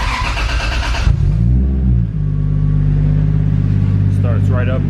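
A Nissan R34 Skyline fitted with a 1JZ swap cranks briefly, then catches and settles into a loud, steady idle up close, with a short rise in revs near the start.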